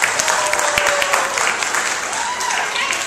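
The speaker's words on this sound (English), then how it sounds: "Let's see if you clap your hands and stamp your feet at the same time." An audience at a festive a cappella concert claps and stamps its feet together, a loud, dense crowd clatter with occasional heavier low thumps beneath it.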